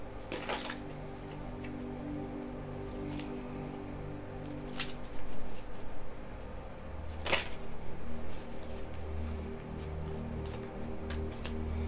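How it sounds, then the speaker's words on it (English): Tarot cards being shuffled by hand indoors, with soft repeated riffling and sliding bursts over a steady hum, a few sharper card flicks standing out, no talk. "So my shuffling is just a little bit different."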